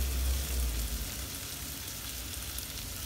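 Garlic sizzles and fries in a pan during shakshuka preparation, giving a steady close crackle with a low hum beneath, with no voices.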